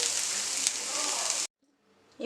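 Thoothuvalai greens with grated coconut sautéing in a pan give a steady, close sizzle for about a second and a half. The sizzle cuts off abruptly, then faint kitchen noise follows.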